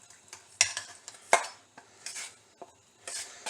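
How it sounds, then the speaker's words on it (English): A spoon stirs canned cream corn in a pot, giving scattered clinks and scrapes against metal with soft wet swishes in an irregular rhythm, close up and without talk. "stir it pretty vigorously"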